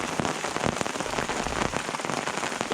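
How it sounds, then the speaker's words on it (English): Pea-size hail falls steadily and densely, drumming continuously on surfaces outdoors near a lake during a storm, a close, constant crackling patter with no pauses. "Yeah, that's pea-size hail."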